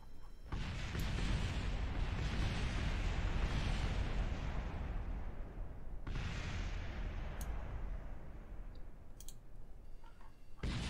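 Waves of explosive weapon fire tear apart a Panther craft in Kerbal Space Program with BD Armory, sustained loud blasts and crackling in two long surges, each with a sharp onset followed by rumbling decay.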